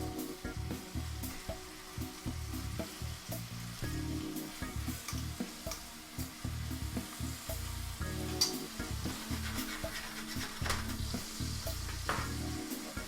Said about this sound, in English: Lots of sizzling.